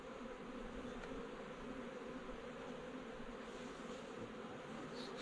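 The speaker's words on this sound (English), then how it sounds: "Man, there's a ton of bees in here, guys." A swarm of bees buzzes steadily inside a fallen tree, a faint dense hum that holds even and continuous throughout, with no voices over it.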